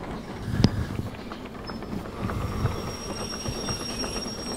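A steam locomotive rolling along in the VR game Derail Valley, with rhythmic wheel clatter and rail rumble plus a sharp metallic clank early on, moderately loud and steady.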